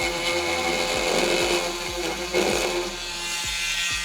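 An oscillating multi-tool cutting, a loud, steady high buzzing whine with rhythmic low pulses as the blade bites into the material, close up with no talking.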